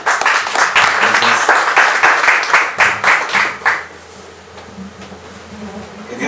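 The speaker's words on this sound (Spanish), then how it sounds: "Un fuerte aplauso por favor para el doctor Juan Luis Gálvez Santizo" An audience at a book presentation applauds in a dense, loud burst for nearly four seconds, then the clapping dies away, leaving a quiet room.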